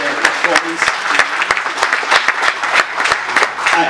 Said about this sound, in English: let's give another round of applause to our fantastic